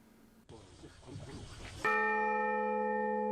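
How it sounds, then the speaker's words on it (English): Church bell struck at an installation ceremony in St. Francis Xavier Village, Japan, after a stretch of background murmur: a single loud, rich strike that rings on with a long, steady, sustained hum. "rang the bell together"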